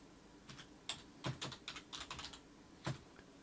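Keys on a computer keyboard typed in short irregular bursts with brief pauses, as a server name is entered; quiet, close clicks with no talking.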